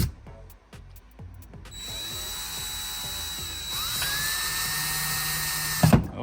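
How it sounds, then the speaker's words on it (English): A power drill drives screws into a wall to fix the base plate of an Apple HomePod 2nd generation wall mount bracket. A few light knocks come first, then a steady close whirring run lasting several seconds that stops abruptly. "We're gonna drill in the screws for the base plate."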